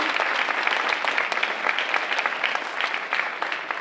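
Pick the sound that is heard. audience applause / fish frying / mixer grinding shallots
audience applause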